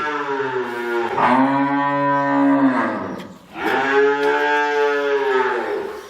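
A cow on a cattle farm, one that has borne many calves, lets out two long, loud, close moos separated by a short pause.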